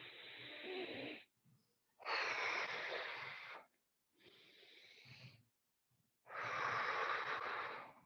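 Four long, loud breathy exhalations with short pauses between them, rhythmic effort breaths during a push-pull shoulder-blade squeezing exercise, close and alone with no speech.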